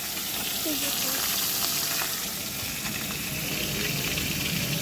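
Oil sizzles steadily over cooking rice in a pan, a dense, even frying hiss that holds at the same close, fairly loud level throughout.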